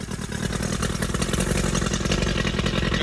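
A Mercury Classic Fifty outboard motor runs steadily nearby, a loud continuous mid-pitched engine drone with a fast regular pulse and no voices.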